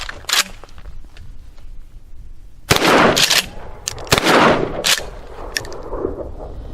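Remington 870 12 gauge shotgun firing mini buckshot shells at 12 yards, two loud sharp blasts a little over a second apart, followed by mechanical clatter of the action being worked.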